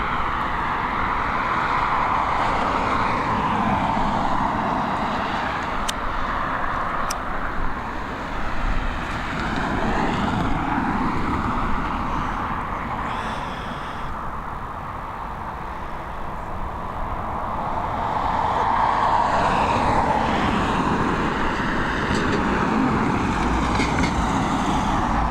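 TUI Boeing 787-9 Dreamliner at Dublin Airport, a steady moderate engine whine and rumble across the apron that swells and dips slowly, with no talk.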